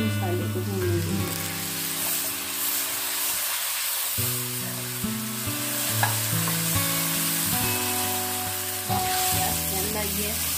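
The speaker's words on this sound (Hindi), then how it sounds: "अब हम इसमें डाल दिए रेड चिली, ब्लैक पेपर, थोड़ी सा इसमें यखनी डालेंगे। इसको मसाले को भूनने देंगे।" Onions with red chili, black pepper and a splash of stock sizzle and fry in a pan while being stirred, a steady close hiss with scraping stirs, no talking.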